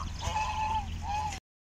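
Geese being herded to a lake on a farm, honking in a couple of drawn-out, nasal calls close by, over a low rumbling background before the sound cuts off.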